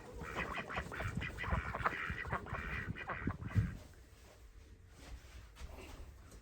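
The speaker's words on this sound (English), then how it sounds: "Aren't you cold, duckies?" Ducks quack in a snowy outdoor setting, a cluster of close, repeated calls that overlap at first, then thin out to a few scattered quacks against quiet background.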